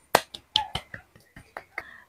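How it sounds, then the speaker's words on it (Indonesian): A few hand claps or snaps ring out sharply at close range, about eight quick percussive hits spaced irregularly across a couple of seconds, with soft vocal sounds between them. "tepuk tangan"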